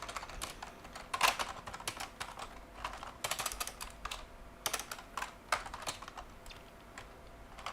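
Typing on a computer keyboard while testing vintage X.org drivers on a retro machine, a close, quiet stream of irregular key clicks in short bursts with a few louder taps, with no talk.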